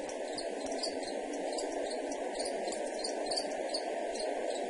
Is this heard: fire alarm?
no